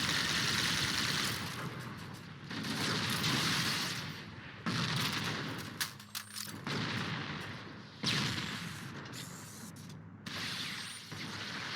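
In the Halo video game, grenade explosions and gunfire come as several loud bursts of rattling mechanical fire, each lasting a few seconds and separated by brief gaps, with no talking.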